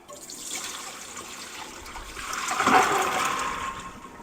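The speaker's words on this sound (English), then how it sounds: "I'm just going to go ahead and drain them." Water poured off dry beans soaked overnight, draining in a steady splashing trickle that swells louder near the end, with no talking.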